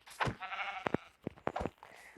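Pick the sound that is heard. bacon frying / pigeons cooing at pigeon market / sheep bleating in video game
sheep bleating in video game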